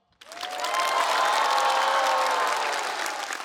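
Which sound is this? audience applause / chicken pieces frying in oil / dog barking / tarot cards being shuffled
audience applause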